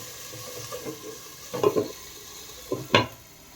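Tomato and mint chutney cooks in a pan, a soft sizzle broken by a few stirring scrapes and one sharper clatter near the end, with no talking.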